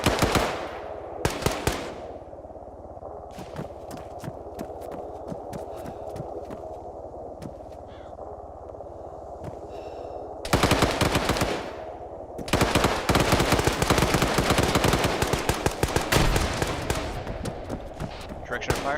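Loud bursts of simulated gunfire crack out during a combat medic field training exercise, rapid automatic volleys around the middle and a long sustained barrage near the end, with people talking in between.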